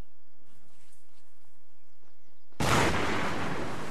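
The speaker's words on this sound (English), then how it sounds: "those mortars are having a crack at us" A mortar round bursts close to a squad in ARMA 3, a sudden loud blast that cuts in after quiet ambient sound and rolls on as a sustained roar.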